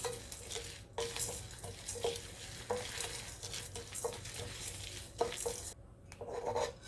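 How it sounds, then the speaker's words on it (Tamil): Dry red chillies and spices dry-roasting in a pan for homemade chicken masala powder, a steady faint sizzle with rhythmic scraping and stirring strokes of a spatula against the pan, close but quiet. "நல்ல மிதமான தீயில வறுத்துக்கோங்க."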